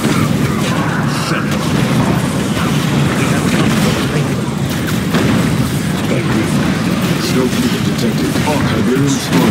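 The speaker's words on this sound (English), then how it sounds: "Hostile explosion detected." Explosions in the real-time strategy game Command & Conquer 3: Kane's Wrath, a dense, continuous barrage of booming blasts and rumble, mixed with announcer voice lines throughout.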